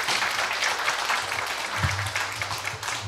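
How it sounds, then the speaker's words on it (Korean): An audience thanks a professor at the end of a philosophy and humanities forum lecture with dense, sustained applause, a steady broadband patter of many hands filling the hall, over a faint low hum. "여러분 큰 박수 부탁드립니다"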